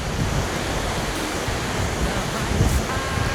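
Hurricane-strength storm wind sweeping across a country homestead yard lined with spruce and birch trees, a dense, continuous roar with gusts that swell and ease, and no voices heard.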